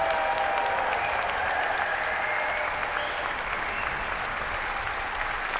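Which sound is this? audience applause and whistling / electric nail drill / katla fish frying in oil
audience applause and whistling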